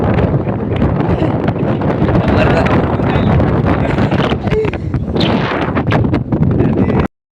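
Loud, constant strong wind buffeting the microphone at Suryamal, a hill spot, with a deep roaring rumble, close and unbroken before cutting off abruptly.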